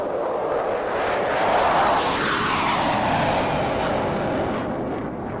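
An aircraft departing at the Royal International Air Tattoo airshow roars loud and broad, swelling and shifting in pitch as it passes, with no talk.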